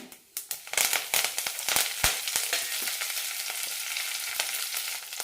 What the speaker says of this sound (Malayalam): കടുക് പൊട്ടിക്കഴിയുമ്പോൾ കറിവേപ്പില ഇടാം